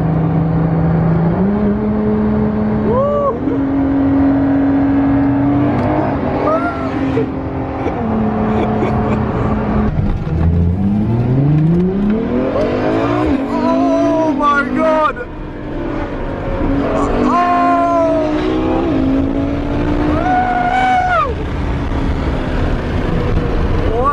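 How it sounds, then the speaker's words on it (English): Bugatti and LaFerrari supercars race on sand in the Middle East, their engines revving loudly and close, with rising and falling pitch sweeps and a constant roar throughout. "Bugatti versus LaFerrari."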